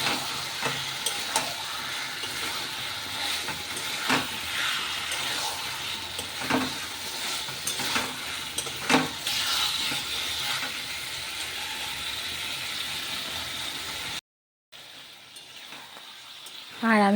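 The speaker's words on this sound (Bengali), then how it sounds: "তো এই যে মটনটা আমি কষাচ্ছি" Mutton is sautéed in a pan with a continuous close sizzle and frequent scraping stirs, briefly cut to silence near the end before the frying resumes.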